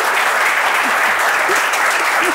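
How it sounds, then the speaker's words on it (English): Loud, continuous applause from an audience at a watch-collecting debate forum in New York, a thick unbroken wash of clapping with a few faint voices mixed in underneath. "please give a round of applause to your two debaters"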